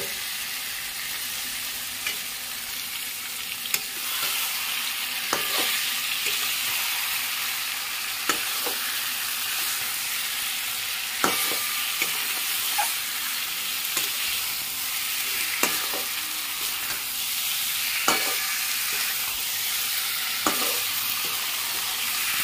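Boiled jackfruit and potato stirred in a pan of spiced oil, with a continuous soft fry and sizzle broken by repeated scrapes and taps of the spoon about every two to three seconds.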